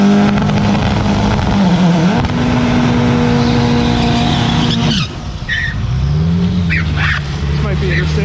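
A Chevrolet-badged drag car revs with a droning engine note at a drag strip, then launches with a rising roar and tire noise, while people talk over the engine throughout.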